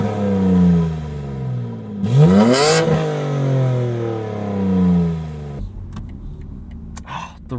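A 2022 BMW M3 with a manual transmission, exhaust valves closed, heard from inside: a loud engine drone rising and falling as it revs, with one sharp surge, then settling to a lower rumble and some clatter.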